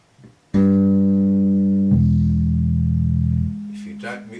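Bass guitar played with a muted string technique, a sustained low note ringing steadily for about three seconds, then shifting to a lower pitch before fading, with brief talk at the end.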